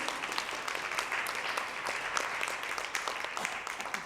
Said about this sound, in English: And let us give an applause to Norma, the coordinator in Los Angeles,